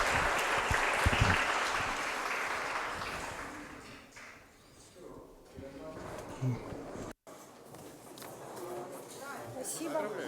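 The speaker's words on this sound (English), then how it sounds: "And so let's give her a round of applause." An audience applauds a speaker at a lecture event. The clapping is loudest at the start, then thins and fades, with talking mixed in afterward.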